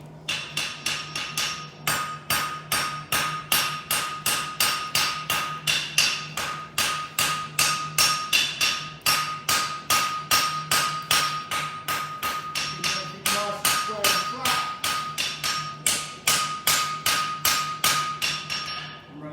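A hammer strikes hot steel on an anvil while forging a horseshoe, dozens of sharp ringing blows in a fast, even rhythm that pauses briefly near the end before resuming.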